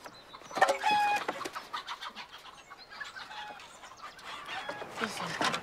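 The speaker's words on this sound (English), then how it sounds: "I love this chicken more than anything in the whole wide world" A pet hen clucks repeatedly amid other bird calls, loud and close at first, then continuing more loosely through the rest of the stretch.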